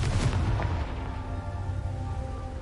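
A blasting-spell explosion in a Harry Potter video game, with a loud booming burst at the start and a rumbling tail that decays over a couple of seconds, no talk over it.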